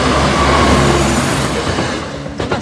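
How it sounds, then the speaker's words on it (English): A train passes at Boultham level crossing, a loud close rumble of wheels on rail that fades over a couple of seconds, ending in a few sharp clanks. "Train's already here."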